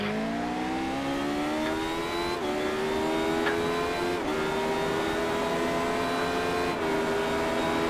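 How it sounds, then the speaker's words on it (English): Radical race car engine on the VIR Grand East track, loud and sustained, pitch rising steadily as it accelerates with a few short breaks at gear changes, close and without talk. "Hard on the brakes, second. Let it come round all by itself, off the gas, on the gas at the apex."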